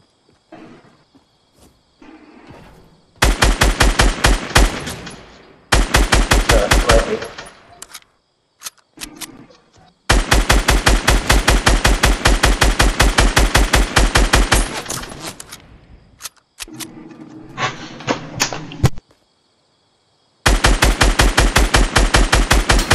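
Fortnite gunfire rattles out in loud, close automatic bursts, several long strings of rapid shots broken by short silences and a few scattered single pops.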